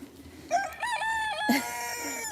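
Chickens on a homestead where eggs are brought out: a rooster crows loudly and nearby, with a second crow following, over faint clucking and background hens.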